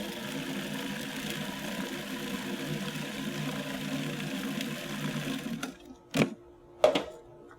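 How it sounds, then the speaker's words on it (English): A food processor whirs steadily as it chops fresh tomatoes, a continuous mid-loud motor hum that cuts off near the end, followed by a couple of sharp clunks. "Just put that in your food processor, let that break up."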